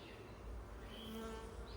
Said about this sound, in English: we'll have a few forager bees flying in her face